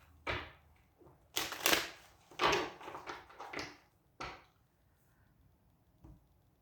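A series of brisk, papery riffling bursts of tarot cards being shuffled, close and fairly loud, come in quick clusters and then thin out to a single faint flick near the end.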